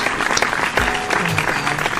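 Brief applause, dense and fairly close, with claps blending into a steady patter.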